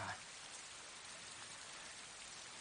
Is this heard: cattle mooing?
no